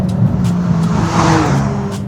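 A McLaren 570S with a 7-speed dual clutch gearbox accelerates hard, its engine a loud continuous roar with brief dips where quick gear shifts break the pull.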